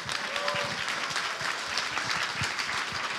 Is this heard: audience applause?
yes